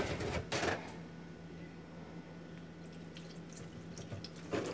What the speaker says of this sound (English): Let's pour this milk in.